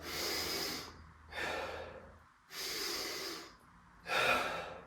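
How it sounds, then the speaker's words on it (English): Two big, deep breaths drawn into the belly and rib cage, each a long, forceful inhale followed by an audible exhale, close and loud with short pauses between, no talking. "Now we're going to do 2 huge breaths into the belly and the rib cage"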